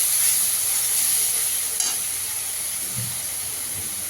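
Spice masala with chili powder and a little black pepper sautéing in a pan for a paneer moong dal curry, giving a steady, close hiss of sizzling that holds level throughout with no talking.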